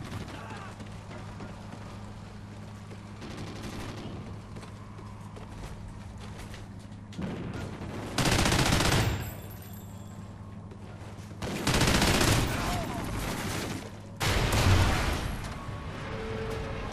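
Rapid rifle fire from an MSBS rifle in the Call of Duty Ghosts video game, with several loud bursts standing out over constant game background noise while players talk.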